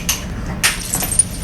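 A drinking glass breaks during an attempted toast, a sharp bright crash followed by a second burst of scattering fragments and small tinkling clinks, close and fairly loud in a room.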